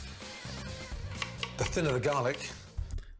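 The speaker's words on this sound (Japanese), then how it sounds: "ニンニクを切ります" Quick, repeated knife taps chopping garlic finely on a cutting board, a rapid chopping rhythm close by, with faint kitchen clatter in the background.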